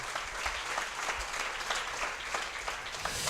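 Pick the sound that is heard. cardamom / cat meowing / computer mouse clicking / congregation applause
congregation applause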